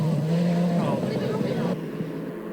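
Rally cars racing off-road on dirt, drifting, play loud and steady from a reaction playback, engines droning with rising revs and a sharp cut partway through, under a continuous vehicle roar.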